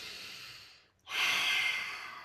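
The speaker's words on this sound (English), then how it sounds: "taking a deep breath in through the nose and a big exhale through the mouth" A deep breath drawn in through the nose during a gentle stretch practice, a brief pause, then a long, loud exhale through the mouth that trails off slowly, close and alone.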